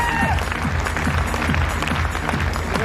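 Dense clapping from a crowd at a success celebration event, continuous and fairly loud, with murmuring voices and low background noise mixed in.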